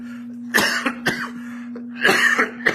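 Several sharp coughs in two clusters, close and fairly loud, with a steady low hum running underneath.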